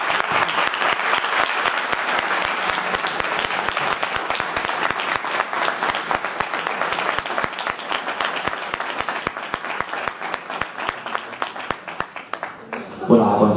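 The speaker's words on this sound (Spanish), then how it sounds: "quiero pedir un fortísimo aplauso una vez más para Francisco Rivera" Sustained, dense applause from a conference audience at a parapsychology congress in Guadalajara, honoring speaker Francisco Rivera; many hands clapping steadily and loudly for over ten seconds before tapering off.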